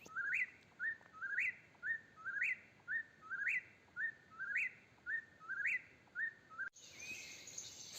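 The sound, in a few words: birds singing at dawn in Quebec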